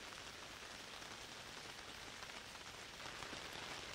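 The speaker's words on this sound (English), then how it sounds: "every sound the rain begins to make" Rain falling on a tent, a soft, steady, dense patter of drops on the fabric, quiet and even, with no voices.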